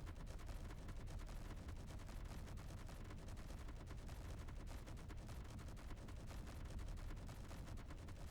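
Sustained autocannon fire in the Space Engineers video game, shredding enemy turrets: a dense, continuous stream of rapid heavy shots with booming low-end thuds, loud and unbroken for the whole stretch, no voices.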